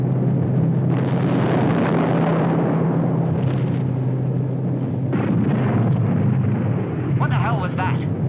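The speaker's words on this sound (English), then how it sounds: "We've been hit by flak, Skipper." A flak shell bursts near a WW2 British bomber, a deep booming blast over the constant low drone of the aircraft's engines, with voices and crackling radio chatter mixed in.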